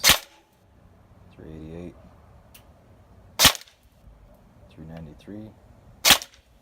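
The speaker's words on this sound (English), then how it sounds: "I will go ahead and do the shooting of the Bolt Mark 18." Bolt MK18 electric recoil airsoft rifle firing single shots, three sharp, loud cracks spaced a few seconds apart, with someone speaking briefly between them.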